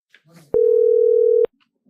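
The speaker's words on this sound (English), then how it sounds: "Why is it ringing?" A single steady electronic telephone tone sounds on a courtroom speakerphone for about a second, loud and clipped off abruptly, with brief faint speech just before it.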